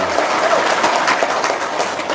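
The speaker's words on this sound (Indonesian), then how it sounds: "Tepuk tangan dong." An audience at a business testimonial talk breaks into applause, a continuous, fairly loud burst of many hands clapping that holds steady for a couple of seconds.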